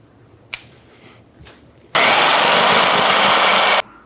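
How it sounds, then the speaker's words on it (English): A power saw cuts through the lower control arm bolt of a 2011-2014 Hyundai Sonata, roaring in loud and steady for about two seconds and then stopping abruptly, with a few faint knocks and clicks before it starts. "we're going to take a saw and cut on either side of the bolt"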